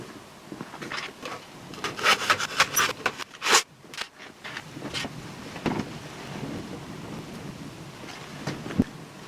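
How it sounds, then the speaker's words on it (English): A reclaimed timber 2x1 is trimmed to length outdoors, with rough rasping sawing strokes in uneven bursts, some louder and closer, over light wind noise. "I'm going to trim a 2x1 down to 4 meters in length"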